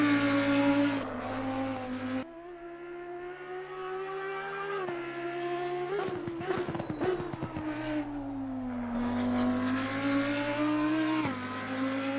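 An Audi R8 EVO GT3 race car laps Kyalami in Assetto Corsa Competizione. The engine note is loud and continuous, climbing in pitch and dropping sharply at each gear change, with a brief rattling patch midway.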